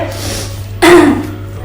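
A single short, throaty cough close to the microphone, standing out over a low steady hum.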